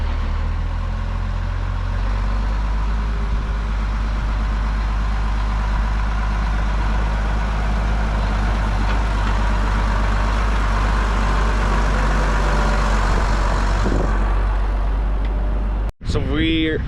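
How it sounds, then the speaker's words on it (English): A John Deere 2640 tractor fitted with a Schulte mower idles in a field with a steady, low diesel rumble. The engine stays even and close until a brief knock near the end. "we're out here with our first mowing tractor that you guys will see. It's a John Deere 2640 with a Schulte mower"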